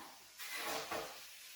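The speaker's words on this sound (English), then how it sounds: "you're frying the oil out of your chicken" A soft, quiet sizzle of chicken frying in a pan without oil, a brief hissing swell over faint background noise.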